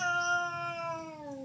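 An elderly cat lets out one long, drawn-out meow that starts bright and slowly falls in pitch, loud and close, with nothing else heard alongside it.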